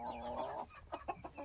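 A rooster and hens in a garden coop: a drawn-out, tonal rooster call is followed by a run of short, separate clucks, fairly close and moderately loud, with no talk.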